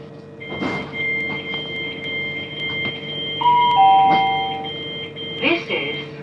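Door-closing alert tones on a Great Western Railway Class 387 electric train, a few clear electronic beeps and tones heard inside the carriage over a steady hum of the train.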